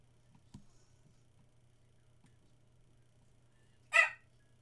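A puppy in the video game Runaway A Road Adventure gives one short, sharp yip near the end, after a long quiet stretch with a low hum and a faint soft tap.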